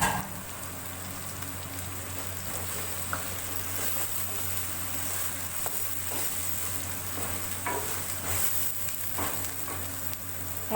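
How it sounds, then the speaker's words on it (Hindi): Pieces of fried chicken sauté in a karahi for restaurant-style chicken karahi, a steady low sizzle with occasional stirring scrapes over a faint constant hum, without any voices. "चिकन डाल के 2-3 मिनट तक भूनेंगे"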